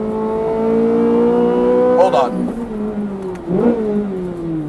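Ferrari 458 engine revving hard in a sweeping climb, then dropping and rising again through two sharp throttle blips, heard from inside the car with a brief voice over it.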